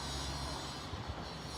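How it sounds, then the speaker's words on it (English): Long Island Rail Road commuter train at Speonk pulls off a siding onto single main track, a faint, steady low rumble of rolling wheels heard from a distance. "the train that's on the siding pulls back onto the main track and heads the other direction"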